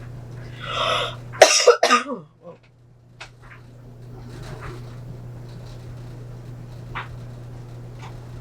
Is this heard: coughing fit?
yes